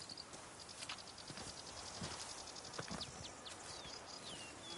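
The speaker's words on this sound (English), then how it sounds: "Even a horse drops if you ride it at a constant gallop." Horse galloping in The Witcher 3, a steady rhythmic patter of hoofbeats kept up at a quiet, even level with faint birdsong above.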